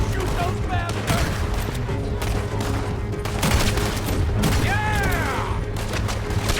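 Rapid gunfire rattles through a stagecoach robbery shootout in Red Dead Redemption 2, a loud burst of repeated shots and booms mixed with shouting voices and the clatter of the moving coach.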